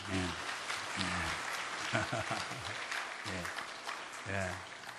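A church congregation claps to welcome a guest at a worship service, with steady applause running throughout and a voice speaking intermittently over it.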